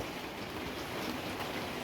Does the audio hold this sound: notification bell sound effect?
no